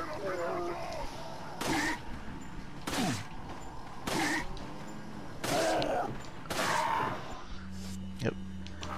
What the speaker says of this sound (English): Oh, I have to shoot this guy quick.